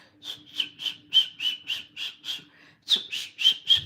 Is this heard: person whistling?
yes